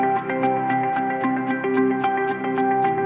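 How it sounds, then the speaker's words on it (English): Second stacked electric guitar track from a stock music composition, a sustained chordal part with repeated rhythmic picked accents and echo-like effects, playing alone. "So the second guitar sounds something like this."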